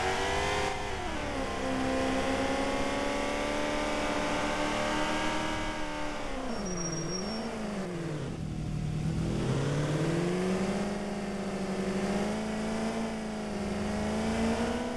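Car engine in a taxi simulator video game, revving hard and shifting through gears as it drives fast, loud and steady for the whole stretch with rising and falling pitch.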